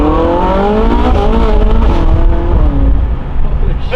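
A Ferrari accelerates hard, its engine climbing through revs in a loud, sustained roar with rising harmonic sweeps, heard from inside or close by at night.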